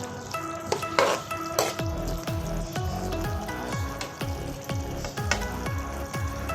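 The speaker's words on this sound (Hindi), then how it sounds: "अब इसको भी 1 मिनट के लिए मटरों को भी अच्छे तरीके से अपने कढ़ाई के अंदर भूनना है।" Peas fry in a kadai with a steady sizzle and repeated scraping stirs in a regular rhythm, heard up close and fairly quiet.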